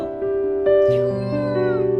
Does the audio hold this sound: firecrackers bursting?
no